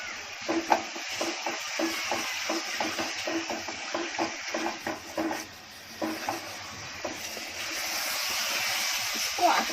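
Prawns cooking in tomato water are stirred in a pan, a run of repeated scraping strokes over a low sizzle and hiss, close up, then the stirring stops and a steadier bubbling simmer continues.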